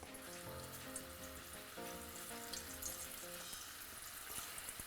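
Faint, steady sizzling and crackling of potato chips frying in hot oil, a constant bubbling hiss with no voices.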